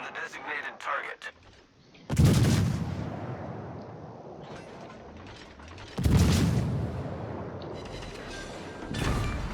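Heavy naval guns from a battleship in a naval combat video game fire in two big booming salvos a few seconds apart, with a third starting at the end, each followed by a long rumbling decay over busy background game noise.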